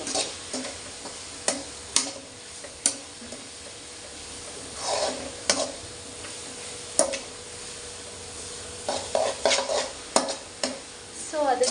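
A spoon scrapes and stirs coconut burfi mixture in a pan, a series of sharp, irregular scraping strokes over a faint sizzling hiss, close and fairly quiet with no talking.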